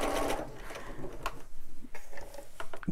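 A sewing machine stitches in a steady mechanical whir with rapid repeating needle clicks, close and fairly loud, slowing into a few uneven bursts near the end.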